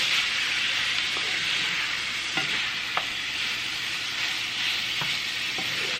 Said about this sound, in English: Now I'm gonna add in that ground beef.